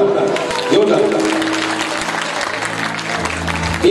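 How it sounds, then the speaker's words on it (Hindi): An audience at a devotional bhajan gathering claps loudly and steadily as a crowd, with a voice speaking over the applause. "ताली बजाओ जरा जोरदार जोरदार"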